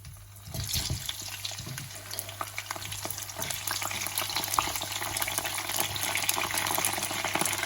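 Gyoza fry in a hot pan with a dense, steady sizzle and crackle that starts after a moment and holds loud and close throughout, with no speech.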